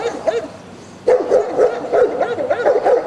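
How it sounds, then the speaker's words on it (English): The landlords' dogs on a residential street in Camden's Kramer Hill section bark loudly in a repeated, rhythmic series of close, sharp woofs after a brief quieter stretch. "And his dogs are loud."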